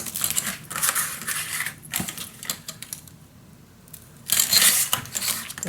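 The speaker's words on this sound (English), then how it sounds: "And then we're going to cut this down." Scissors or a trimmer cutting paper for a lavender-themed craft mini album, a string of close crisp snips and rustles, a quiet gap, then a louder burst of cutting near the end, no talking.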